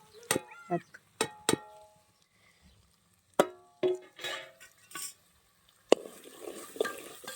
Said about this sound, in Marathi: हे बघा व्यवस्थित असं परतून घेऊयात